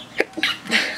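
A single nearby sneeze with a sharp intake and burst during an indoor lunch, short and fairly loud, followed by breathy trailing sound.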